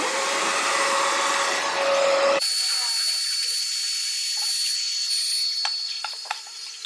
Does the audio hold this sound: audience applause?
no